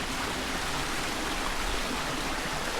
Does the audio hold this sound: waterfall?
yes